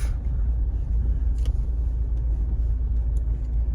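Steady low road rumble and engine drone from inside a car driving on an Indian road, continuous and loud with no voices.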